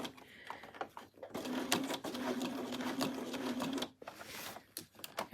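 A sewing machine runs a locking stitch on a fabric unicorn bag, a steady mechanical whirring burst of about two and a half seconds between shorter stitching runs and handling clicks, close and fairly quiet.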